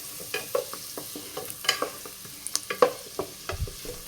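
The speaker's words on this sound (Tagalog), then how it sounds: "dahil sa mainit na, lagyan na natin yung ating bawang" Garlic sautéed in hot oil for a creamy sopas sizzles steadily while a utensil stirs and scrapes the pan, producing irregular clicks and taps close up, with no talking.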